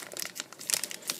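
Crinkly plastic foil of a Japanese Pokémon booster pack being torn open at the corner notch, a brief sharp rustling and ripping up close.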